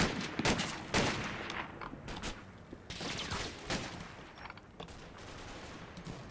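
Dense, sustained bursts of suppressive gunfire from a war video game, rapid overlapping shots rattling on loudly with no pauses and no voices.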